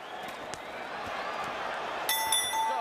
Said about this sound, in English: Listen for the bell.